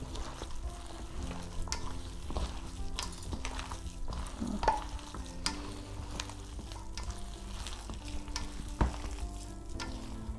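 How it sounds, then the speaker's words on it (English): Onion and potato pakora batter with besan being stirred in a bowl, a steady wet churning with occasional sharp clinks and scrapes against the bowl, close and fairly quiet, with no voices. "So just put it in and just give it a good stir."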